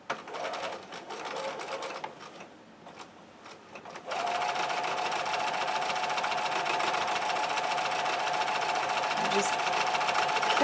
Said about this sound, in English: I'm going to go ahead and sew a 1/4 inch